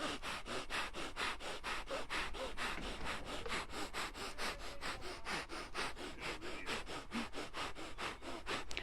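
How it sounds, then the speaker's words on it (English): Rapid, rhythmic forceful breaths through the nose in kundalini yoga breath of fire, a fast, even train of sharp exhalations held steadily at close range. "that's called the breath of fire"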